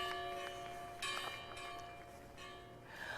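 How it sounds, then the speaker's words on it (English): The Freedom Bell rings at the dedication of the National Museum of African American History and Culture in Washington, D.C., its resonant tolls sounding at moderate distance over a steady outdoor hum. "With the ringing of the Freedom Bell, President Obama officially dedicated the museum."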